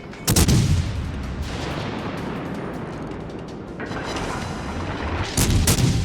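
Heavy naval gunfire from the cruiser München in World of Warships as it fires armour-piercing shells: loud booming salvos at the start and again near the end, with a rumbling sustained roar of battle between them and no talking.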